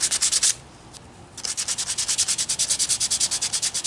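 Sandpaper rubbing on a small whittled wooden knife: a quick burst of strokes, a short pause, then a long run of fast, even back-and-forth strokes, close and crisp with no talking.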